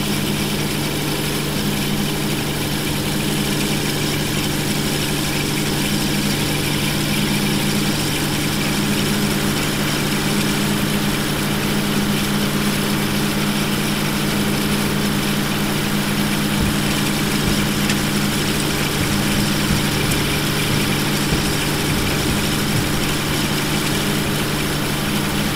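A train engine idles in the Train Simulator 2013 video game, a loud, steady low throb with constant vibration droning unchanged for the whole clip, with no talking.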